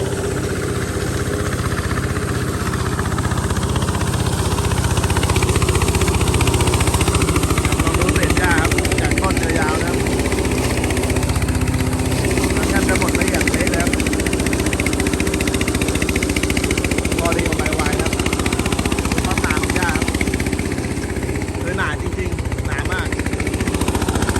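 A 15.5 hp diesel 4x4 flail mower runs with a steady, loud mechanical drone and vibration that barely changes throughout. Someone speaks Thai over the engine.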